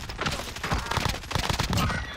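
Light machine gun fire rattles in a multiplayer video game, a loud, dense stream of rapid shots running without a break through the whole moment.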